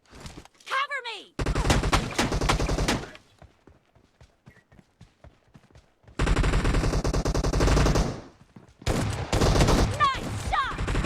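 Shotgun blasts in the mobile battle royale game PUBG Mobile come in dense bursts of loud, rapid booming reports, separated by short quieter gaps with faint in-game sound.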